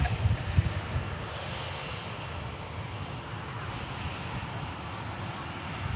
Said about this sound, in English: Got a TUI Dreamliner on the taxi out as well now